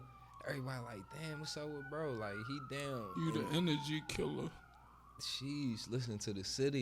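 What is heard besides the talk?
ambulance siren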